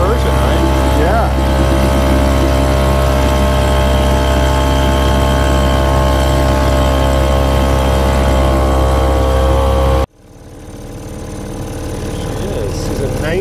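The engine of a 1972 Irwin 32 Classic sailboat, running in forward below full throttle, drones steadily with a low, even hum for about ten seconds, then cuts off abruptly and leaves a quieter background.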